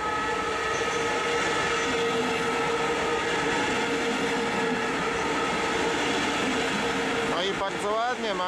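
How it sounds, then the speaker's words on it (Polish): A Koleje Mazowieckie double-deck passenger train to Mława rolls into Warszawa Wola station with a loud, continuous rumble and rail screech, brakes squealing in rising whines near the end. "Wjeżdża pociąg osobowy Kolei Mazowieckich do Mławy."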